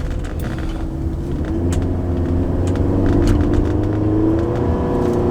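A 2009 Toyota Camry Hybrid accelerating at full throttle with the engine bogging and hesitating, a loud droning rumble with a slowly rising tone that strains without climbing freely, heard from inside the car.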